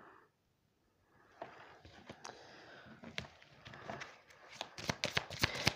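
Oracle cards being shuffled by hand for a card reading, a run of soft papery riffles and flicks that grows busier and sharper toward the end, close and fairly quiet, with no talk.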